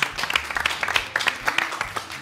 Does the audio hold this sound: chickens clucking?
no